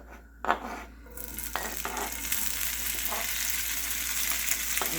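A hot cast iron skillet with olive oil and butter sizzles loudly as leftover rotisserie chicken is dropped in, with a brief thud at the start and then a dense, steady crackle.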